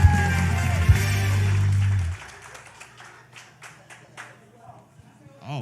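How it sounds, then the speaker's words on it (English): A small audience at a community outreach session claps in a loose, scattered patter, fairly soft and nearby, following a sustained droning tone that stops abruptly. "So clap it up for my mother over there."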